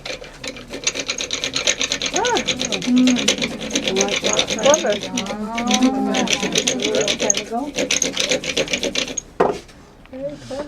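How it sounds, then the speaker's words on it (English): A traditional hand drill, similar to a fire-making drill, grinds and rasps with a steady scraping rhythm, wooden and mechanical, while people talk nearby and occasional creaks rise over the turning. "It is similar to the one that makes fire, but this is a drill."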